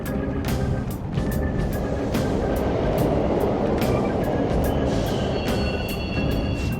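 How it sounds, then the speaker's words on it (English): Subway trains run steadily through a Persona 5 Royal station, a continuous loud rumble with rhythmic clacking and occasional high wheel squeals, no talking. "The trains are totally running!"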